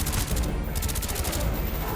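Rapid bursts of gunfire in Call of Duty: Black Ops crackle over a dense, noisy background, with quick repeated shots forming a continuous volley.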